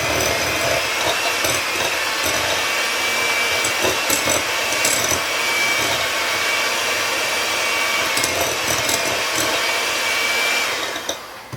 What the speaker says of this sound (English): we're going to use the mixer, so it might get a little loud